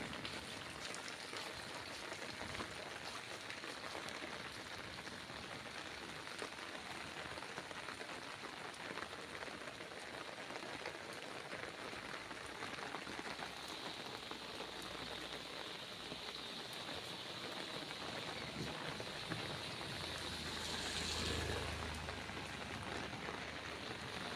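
Heavy rain pours steadily over Hyderabad, a dense continuous hiss of drops drumming on surfaces, with a brief louder swell near the end.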